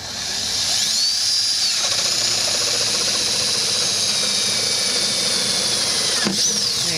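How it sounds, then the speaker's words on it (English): A power drill fitted with a paddle bit bores a hole through the side of a plastic five-gallon bucket, giving a loud, steady, close-up whine that holds throughout with a brief dip near the end. "now she's going to drill the hole"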